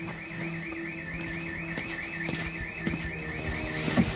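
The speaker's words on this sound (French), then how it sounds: "Première intervention dans une propriété dont l'alarme vient de se déclencher." An electronic burglar alarm sounds at a house, a steady warbling siren whooping in a fast repeating cycle at moderate distance, with faint clunks and background noise underneath.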